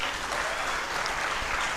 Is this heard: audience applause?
yes